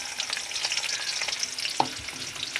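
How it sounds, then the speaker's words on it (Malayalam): Onions sizzle and crackle steadily in hot oil in a curry pan, close up, with a faint clink of a utensil partway through. "ചൂടായപ്പോൾ അത് ഉള്ളി ഇടുന്നു."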